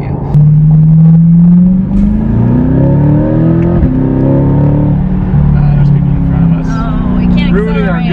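A 2023 Corvette C8 Z06 with a Five-Speed exhaust made in Pennsylvania revs up hard and holds a loud, deep roar close by for several seconds, the pitch climbing and easing with crackles near the end.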